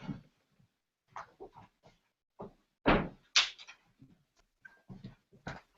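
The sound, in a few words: door blown shut by strong wind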